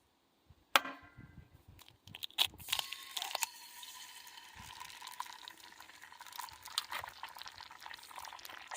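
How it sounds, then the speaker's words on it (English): Food sizzles and crackles faintly on a homemade hobo stove after a sharp clank, with scattered clicks and scrapes of cooking gear close by. "Sizzle, sizzle."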